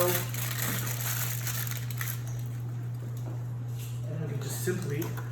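Aluminum foil peeled off a baking dish of scalloped potatoes in a kitchen, a soft close crinkling and rustling over a steady low hum, with a few brief crackles near the end.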